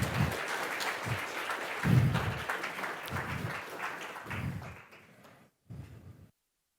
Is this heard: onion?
no